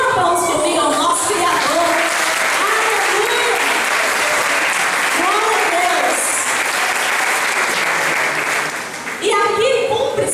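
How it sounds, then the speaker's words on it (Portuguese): Congregation in a church applauding together, a dense steady wash of clapping with cheering voices mixed in, loud and continuous, dipping briefly near the end before picking back up. "Então, mulheres, dê um aplauso comigo ao nosso Criador"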